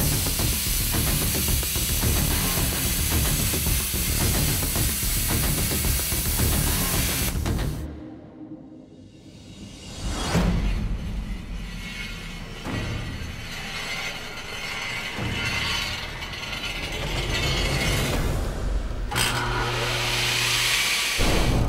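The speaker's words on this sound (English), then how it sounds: "I'm gonna go ahead and use our hand plasma torch and cut the clip point off for it" A handheld plasma torch cuts the clip point off a steel knife blade, giving a loud, steady roaring hiss that breaks off briefly, then resumes in shorter bursts of spraying, crackling noise with mechanical clatter in between.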